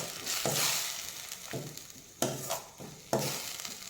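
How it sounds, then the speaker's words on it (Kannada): Masala paste for an egg gravy frying gently in a pan on a low flame, a soft steady sizzle broken by several sharp scraping stirs, close and fairly quiet with no talking. "ಫ್ರೈ ಆಗ್ತಾಯಿದೆ. ಲೋ ಫ್ಲೇಮಲ್ಲೇ ಫ್ರೈ ಆಗಿದೆ."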